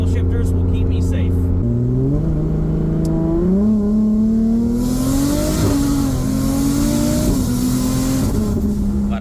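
A 2JZ-powered Nissan S14 with a gear-cut 8HP70 sequential transmission revs hard and shifts up through gears, each change marked by a sharp drop and rise in the loud engine note, close and continuous.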